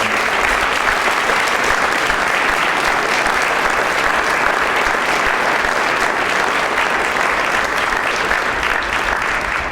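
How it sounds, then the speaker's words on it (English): Audience at a high school national scholar recognition ceremony applauds for the honored scholars, a dense, steady clapping that fills the whole stretch without letting up. "So let's give them a big round of applause."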